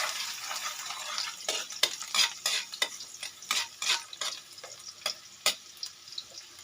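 Garlic sautéing in a pan for sotanghon guisado, soft sizzling with a series of scraping stirs and clinks, moderately close, no talk.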